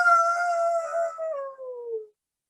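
A person vocally imitates a happy dog greeting someone, producing a single long, loud, close howling whine that slides gradually downward in pitch before cutting off into silence.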